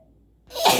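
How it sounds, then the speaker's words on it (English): A single loud sneeze bursts out after a moment of near silence, close and sharp with a breathy, hissing release. "I feel like I'm going to sneeze, so pardon me."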